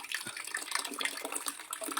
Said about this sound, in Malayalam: ടാങ്ക് മെല്ലെ നിറയുന്നുണ്ട് ഇതാ വെള്ളം വരുന്നുണ്ട്